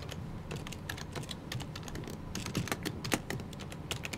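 Computer keyboard typing, quick irregular key clicks in a fast run, close and fairly quiet, with no voice over it.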